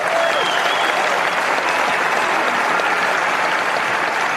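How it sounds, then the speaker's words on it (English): An audience applauds steadily as Mike Pence, the 50th governor of Indiana and 48th vice president, approaches the podium; a dense, even wash of clapping continues without a break and without speech. "Everybody's clapping."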